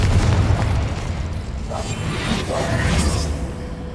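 A loud blasting spell goes off in Hogwarts Legacy as a booming, rushing burst that stays dense and sustained for a few seconds before slowly easing.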